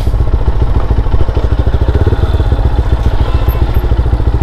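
A GPX Demon GR 165 RR sports motorcycle runs close by with a loud, rapid, pulsing single-cylinder engine throb that holds steady throughout.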